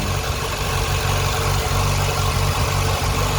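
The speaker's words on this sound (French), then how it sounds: "Ouais, là il perd son ralenti, là il est moins bon là." A Ford Fiesta MK4 engine idling unevenly, a close steady low rumble with slight irregular wavering throughout.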